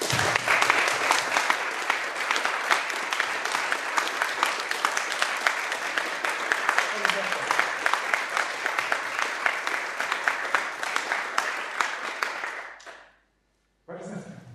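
Audience applause at the closing of a EuroSciPy conference session, a steady, dense clapping from a sizable crowd that keeps going for over twelve seconds, then cuts off abruptly, followed by brief noise.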